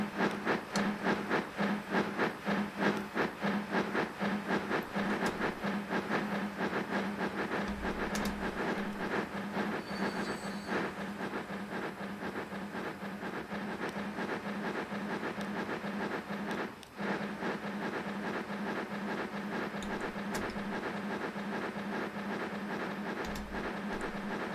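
A steam train runs in the video game Transport Fever 2, heard as a steady rhythmic clickety-clack of wheels with chuffing and hiss, continuous and fairly loud throughout, no talking.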